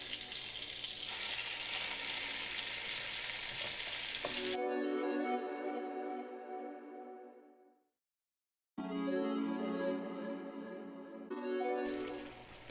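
Chicken browning in a hot pot gives a loud, steady sizzle that fades briefly into silence and then resumes just as strongly.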